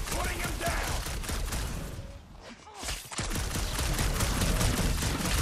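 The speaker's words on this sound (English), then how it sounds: "You just keep shooting him." Gunfire rattles through combat in the Guardians of the Galaxy video game, with dense bursts of shots and impacts that dip briefly midway and then carry on.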